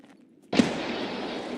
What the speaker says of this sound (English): I'm gonna throw a nade in there.